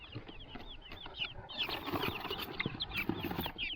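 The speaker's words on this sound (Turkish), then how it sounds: "Habeş civcivleri almaya geldim." Many small guinea fowl chicks peep continuously in high, rapid chirps, with soft rustling and shuffling underneath, close by.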